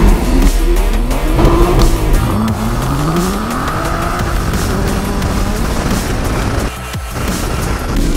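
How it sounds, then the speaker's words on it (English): An Aston Martin does a burnout on gravel, its loud engine revving and wavering as the tires squeal and spin continuously throughout. "This is definitely enough time for me to get traction and just smoke it."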